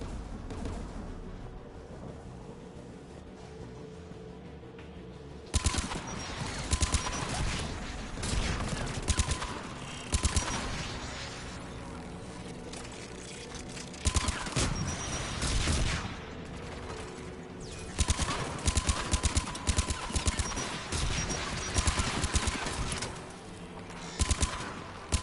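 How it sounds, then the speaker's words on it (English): Anti-aircraft guns in Mass Effect 3 firing in repeated loud rapid volleys, heavy pounding bursts with metallic mechanical clatter, pausing and resuming over a steady background rumble. "AA guns ahead of us."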